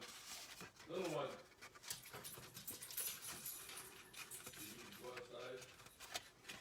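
A pet dog, unsettled after a night of fireworks, pants quietly nearby with a few soft whimpers. Faint rustling and scattered talk run underneath.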